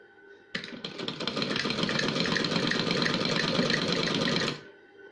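An electric sewing machine stitching a cushion cover runs in one steady, rapid whirring burst of about four seconds, starting abruptly and stopping cleanly, close by with no talking.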